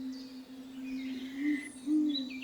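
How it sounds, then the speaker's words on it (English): A great horned owl gives deep, steady hoots across a Yosemite wilderness setting, one long sustained low call with a couple of louder swells, heard alone with faint birdsong in the background. "The deep hooting of the great horned owl serves to establish the limits of its domain"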